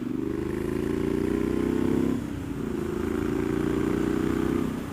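A custom 2018 Triumph Street Scrambler engine drones steadily up close, dipping briefly in pitch midway as it engine-brakes, then resuming its even hum.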